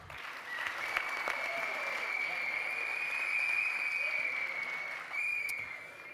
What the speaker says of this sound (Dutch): Een applaus voor Roos